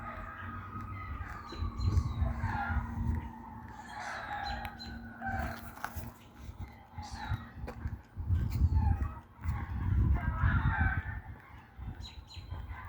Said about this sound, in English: I don't know what's over there, roosters or something.